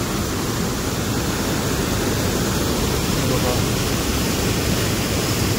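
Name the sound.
heavy monsoon rain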